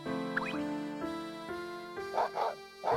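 A few short barks from a dog in the Nintendo DS game Professor Layton and the Diabolical Box, sounding near the end over steady game music.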